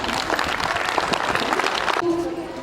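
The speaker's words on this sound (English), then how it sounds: "So please a huge round of applause for her." An audience at a school International Women's Day event gives a big round of applause, dense clapping that holds steady and then cuts off abruptly near the end, leaving a faint tone.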